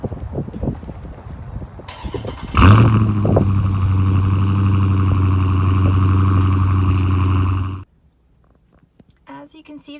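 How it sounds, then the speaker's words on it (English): A 2017 Dodge Challenger SRT 392 V8 fires up by remote start with a sharp burst, then holds a loud, deep, steady idle for about five seconds before cutting off abruptly; brief talk before and after. "Remote start on the key here."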